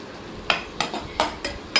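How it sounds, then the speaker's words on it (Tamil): Onions being sautéed and stirred in a pan for an egg curry, with a quick series of scraping, clattering strokes at an irregular rhythm over a low background hiss. "அதுலேயே வெங்காயம் எல்லாம் போட்டு வதக்கி எடுத்துருங்க"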